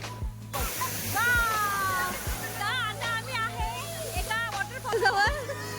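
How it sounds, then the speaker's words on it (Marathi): A steady rushing roar of falling water from a waterfall, seen on a group outing. It runs constantly in the background, mostly under voices talking, with a rhythmic thud also present. "हा जो वॉटरफॉल आहे खूप सुंदर आहे"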